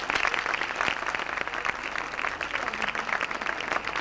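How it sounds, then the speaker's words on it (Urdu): Steady applause from a college anniversary gathering audience, dense continuous clapping heard throughout at moderate loudness, honoring a student's father. "ایک والد کے لیے بہت سی تالیاں تو بجائیے"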